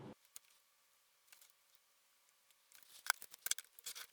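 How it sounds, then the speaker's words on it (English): Scissors or cutters snipping drone motor wires to length during an analog drone rebuild: a faint click at the start, a long quiet stretch, then a cluster of sharp close snips and small handling noises near the end. "So now I'm going to cut the motor wires to length."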